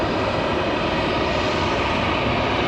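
A Frontier Airlines jet arriving at Raleigh-Durham airport roars steadily and loudly throughout, a broad continuous engine rush with no pauses or voices.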